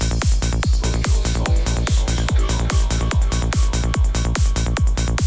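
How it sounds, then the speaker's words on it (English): A loud, punchy electronic groove: steady pounding kick drum locked with a deep bass line and crisp percussion, driving at a fast dance tempo. "you will find kick and bass and drum grooves of mine"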